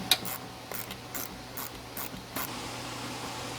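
A ratchet backs out 10mm bolts from the headlight assembly of a 2009-2014 Ford F-150, giving a quiet run of short, evenly spaced clicking bursts up close with no talk.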